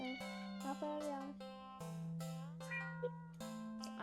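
A cat meows several times in a video game, its short cries rising over a steady electronic tone.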